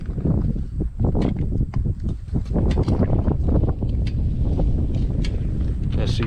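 A motorcycle fitted with an SC-Project CR-T exhaust idles after startup, giving a steady, close, low rumble with uneven pops and burbles, partly buffeted by wind noise.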